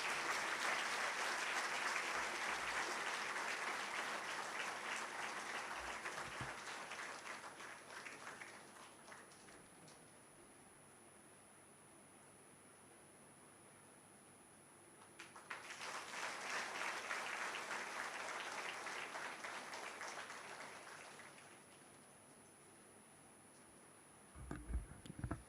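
Audience applause for the chief guest at a summer camp inauguration, two sustained waves of many hands clapping, moderately distant, separated by a quiet lull with faint thumps.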